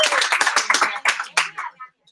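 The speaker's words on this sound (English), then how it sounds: "let's give Jeanette a round of applause" A small group in a classroom gives a brief round of clapping, close and uneven, fading out after about two seconds.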